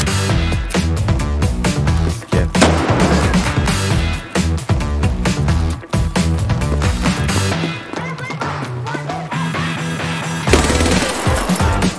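Rapid automatic gunfire bursts in Escape from Tarkov, loud and dense over a steady game backdrop, with repeated volleys running almost continuously through the stretch.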